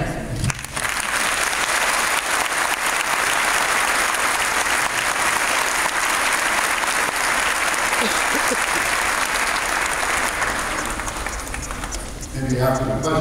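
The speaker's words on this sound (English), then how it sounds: "Let's give them a hand." Audience at a church gathering breaking into sustained, dense applause that holds steady for over ten seconds before tapering, with a few voices emerging at the end.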